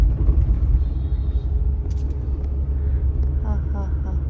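A car on a trial drive by an untrained driver on a quiet road, a steady close engine and road rumble throughout with a few brief faint chirps near the end.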